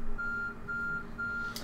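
A 15-minute countdown timer in Planet Explorers beeps three times in a steady, evenly spaced rhythm over a low background hum. The beeps are clear and fairly close.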